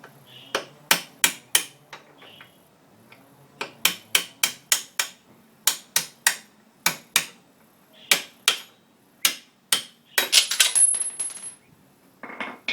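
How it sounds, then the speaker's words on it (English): Sharp metallic hammer blows strike a long punch driving a bolt out of a GS500 motorcycle's rear suspension, in uneven series, some in quick runs of three or four, close and loud, ending in a jangling rattle. "use a long punch and a hammer to punch the bolt out."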